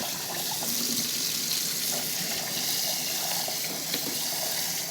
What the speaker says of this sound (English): I'm going to take these over to the sink and rinse them under cold water.